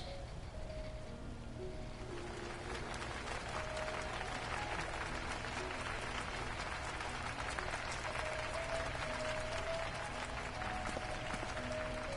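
A crowd cheers and applauds in Final Fantasy XIV: Heavensward at a knight's investiture. A broad, steady roar of clapping and cheering holds throughout, with soft musical tones beneath it.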